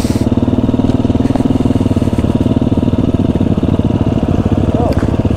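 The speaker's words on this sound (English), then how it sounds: "Let's pop a wheelie for him." A Husqvarna dirt bike engine drones loudly and steadily up close, holding a fairly even note throughout, as a rider pops a wheelie on a sunset ride.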